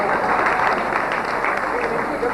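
Steady applause from a large seated audience at a public theist–atheist debate, dense continuous clapping filling the whole stretch at fairly loud level, with no voices over it.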